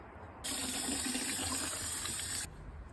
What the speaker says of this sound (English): let's get water in here.